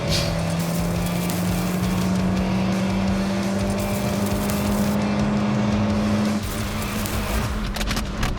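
A car engine drones at a steady pitch through a timed lap driven without brakes, a sustained loud hum with a brief dip near the end and no talk.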